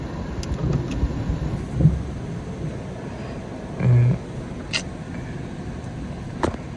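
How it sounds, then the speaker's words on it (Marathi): Heavy rain falls on a parked car, heard from inside as a dense, steady wash with a few soft thumps and brief louder patches and no one talking. "बाकी पाऊस येतोय खूप जोरात."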